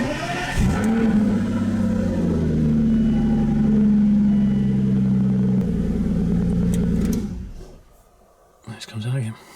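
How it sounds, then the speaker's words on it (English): An Aston Martin DBS V12 starting up in a home garage: the starter catches and the engine settles into a loud, steady, deep idle that holds for several seconds, then cuts off. Someone speaks nearby. "I'll start it briefly, but otherwise if I leave it running, the garage will fill up."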